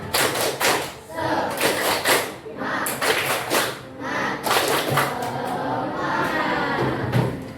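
A group of teachers in a school supervision session claps the rhythmic 'tepuk semangat' cheer, loud patterned bursts of claps with pauses and voices mingled in.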